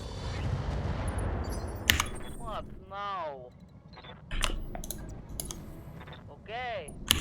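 Mech weapons firing at a Rottweiler mech in Roguetech BattleTech: sharp bursts and cracks mixed with rapid clicking volleys and warbling laser-like sweeps, loud, with speech at times.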